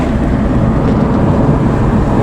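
A very loud car idling and revving at a car meet, a dense, constant roaring rumble filling the foreground without pause.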